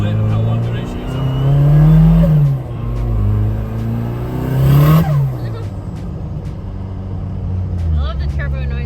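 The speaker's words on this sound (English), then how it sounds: "I love the turbo noises in here." Toyota JZX100 Chaser with a turbocharged engine, revving and accelerating: a loud, deep rumbling engine climbs in pitch twice with turbo whoosh, drops between pulls, then settles to a lower drone with faint clicks near the end.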